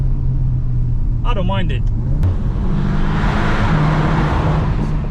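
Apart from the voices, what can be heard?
air rushing past a VW Arteon R Shooting Brake while driving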